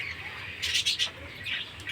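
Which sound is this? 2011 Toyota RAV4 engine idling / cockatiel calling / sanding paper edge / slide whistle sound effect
cockatiel calling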